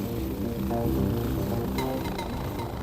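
A helicopter with its rotor turning, heard as a steady, continuous engine and blade drone at moderate loudness with no voices.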